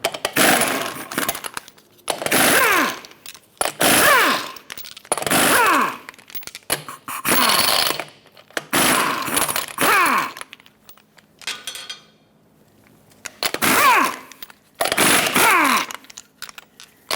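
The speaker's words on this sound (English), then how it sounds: "Use a 21mm socket, remove all 8 lug nuts, and then pull the wheel off." An impact wrench removes the 21mm lug nuts from the rear wheel of a 2000-2005 Ford Excursion. Seven or eight loud, close bursts of whirring rattle each last about a second, separated by short pauses.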